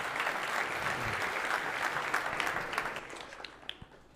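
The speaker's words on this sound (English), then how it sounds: "Let's give her an applause." Conference audience at Devcon in Bogotá applauds a departing speaker, dense even clapping that holds steady and then thins out into a few scattered claps near the end.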